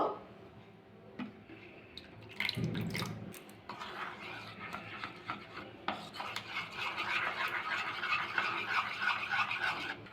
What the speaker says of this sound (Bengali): ভালো করে মিশিয়ে নিতে হবে এই ব্যাটারটা কিন্তু অনেকটাই ঘন হয়ে গেছে আবার জল দিয়ে একটু পাতলা করে নেবো